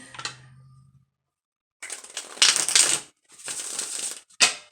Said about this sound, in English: I'll just shuffle these here for our weekly guidance reading